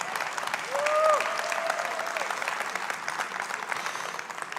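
An audience claps in sustained, even applause, fairly loud and close, with a short whistle near the start.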